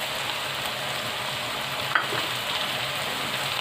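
Chicken and garlic frying in a pan with tomatoes, a steady close sizzle with one brief clink of a utensil in the middle, no voices.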